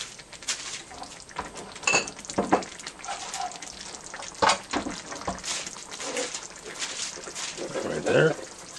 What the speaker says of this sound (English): And you can't forget to add the garlic.